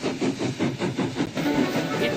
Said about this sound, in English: Then there was an unfamiliar puffing noise.